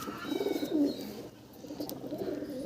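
Madras pigeons coo in a loft, low soft rolling calls repeating in a steady murmur at moderate distance, with a faint higher chirp or two over the flock.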